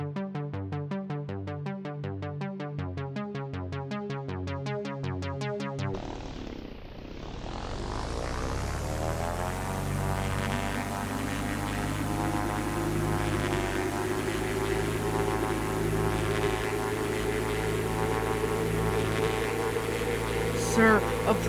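A propeller airplane engine in a homemade video game called Vroom Vroom Car drones with a steady, harmonic hum after a few seconds of rhythmic electronic pulsing, then swells slightly louder.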